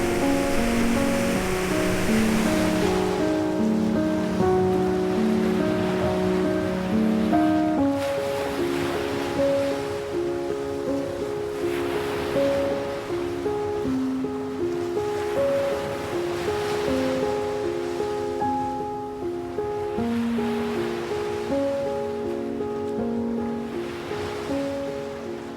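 Surf at Diamond Beach on Nusa Penida, Bali, rolls in as a steady broad wash with periodic swells of breaking waves, heard beneath a sustained layer of music.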